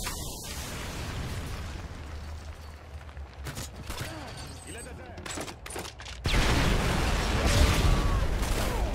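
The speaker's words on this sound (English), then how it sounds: "Friendly Predator missile inbound." An explosion from a Predator missile strike in the shooter game Modern Warfare 3 erupts as a sudden loud blast, followed by rumbling gunfire and bursts in a dense, continuous battle mix with a brief game voice.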